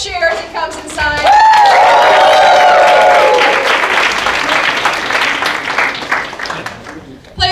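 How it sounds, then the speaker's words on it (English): Loud audience cheering and applause from a crowd at a live game show as a player returns to the stage, rising sharply and sustained with whoops and clapping, slowly fading over several seconds. "give him a cheer as he comes inside."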